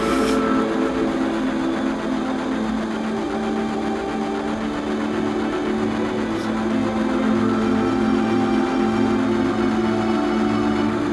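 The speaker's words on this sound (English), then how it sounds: "this train is on" A train in the video game Final Fantasy VII rolls along with a steady, continuous rhythmic rumble and mechanical clatter, loud and unbroken, with no talking.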